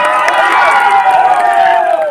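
A crowd at a village panchayat fair stage in Nayagarh cheers loudly and continuously, with overlapping shouting voices close by.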